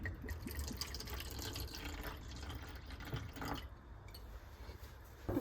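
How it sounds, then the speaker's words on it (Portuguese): About 50 ml of wine is poured into the mixture for a traditional British Christmas cake, a soft, steady trickle of liquid running for a few seconds at low volume, nearby and without talk. "Eu vou colocar aqui 50 ml do vinho."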